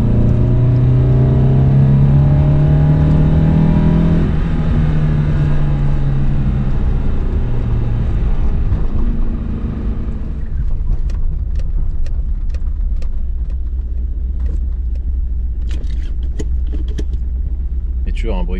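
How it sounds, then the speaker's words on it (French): An Alfa Romeo 33 engine runs unevenly close by, its rough, uneven drone shifting after a few seconds while irregular ticks and pops suggest misfiring, with a voice talking over it. "Quel dommage qu'il fonctionne pas correctement ce moteur."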